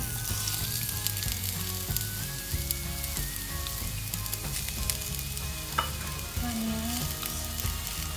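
Onions fry in hot oil for cheesy pasta, a dense, loud, close sizzle with crackling pops and occasional stirring, no voices.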